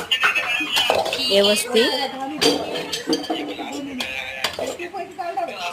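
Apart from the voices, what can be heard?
mixing chicken curry in a pot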